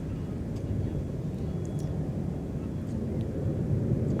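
Aircraft taking off from runway 17 at a busy airport, a steady broadband engine roar that stays constant and slowly swells, heard at a distance with wind noise.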